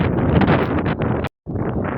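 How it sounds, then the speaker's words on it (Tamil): Strong wind blows hard across the microphone outdoors in Bangalore as a steady, loud rush of buffeting noise that cuts out briefly and then returns. "செம்மையாக காற்று அடிக்குது"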